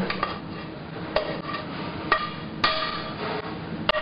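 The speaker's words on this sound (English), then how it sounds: "So in goes the corn." Sweet corn kernels tipped into a salad bowl for a Mexican corn salad, giving a few sharp clattering knocks against the bowl amid a steady scattered rattle of kernels, close and fairly loud.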